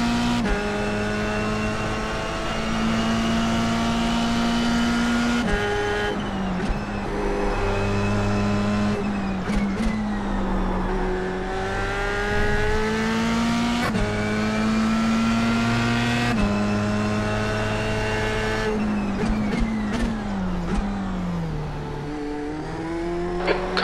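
Formula 3 race car in the iRacing sim at Suzuka, its engine droning loud and steady throughout, pitch rising through gears and dropping on shifts and braking, with other cars close by.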